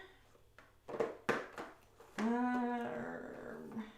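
A dog growls and whimpers nearby, starting with a few short yips and snorts. A sustained, rising whine follows and tapers off. The sounds are fairly quiet and heard alone without speech.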